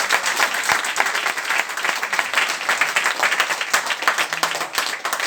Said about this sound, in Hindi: एक बार तालियां बजा दीजिए जोरदार।